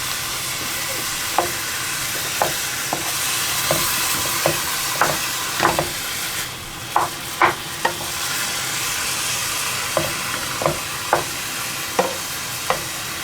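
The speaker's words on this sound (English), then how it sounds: "So while your venison is browning" Venison meat browning in a hot pan gives a steady broadband sizzle and hiss, broken by sharp spitting pops and occasional stirring clicks scattered throughout, with no talking.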